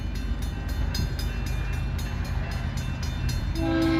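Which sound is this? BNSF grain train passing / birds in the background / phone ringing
BNSF grain train passing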